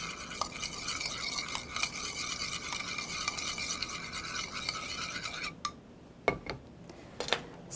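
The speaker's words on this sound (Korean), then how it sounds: "깨소금, 소금 6분의 1 작은술을 넣어 잘 저어주도록 하겠습니다." Seasoned julienned radish salad (mu saengchae) with sesame salt, ginger and salt is stirred in a bowl, giving a close, steady wet scraping and mixing sound that stops near the end, followed by a few isolated clinks.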